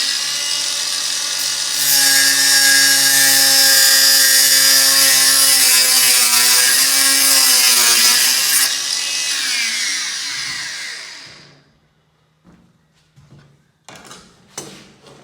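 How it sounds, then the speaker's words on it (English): A cordless grinder with a thin cutting wheel whines loudly and steadily as it cuts hybrid flooring, its pitch shifting as it bites, then spins down and fades, followed by a few faint knocks. "This is just a cordless grinder with a thin cut wheel on it."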